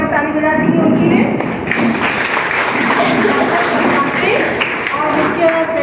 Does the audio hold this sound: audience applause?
yes